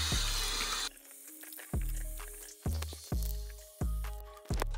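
Water splashes in a run of about six quick repeated bursts as cleanser is rinsed off a beard, each splash sharp at the start and fading fast, close and fairly quiet, with no talk.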